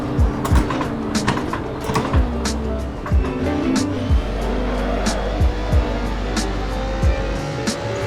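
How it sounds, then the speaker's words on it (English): A race car in Assetto Corsa drifts on a bumpy track, its engine droning steadily while the rear tires squeal and the gear shifts and blips repeat in a regular rhythm, close and loud, with a voice talking over it. "It's always fun to actually drift the rear tires of the car"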